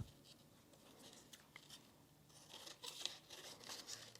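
Scissors cut a folded sheet of paper along the crease while making a handmade card, a faint, close, irregular series of soft snips and paper rustles.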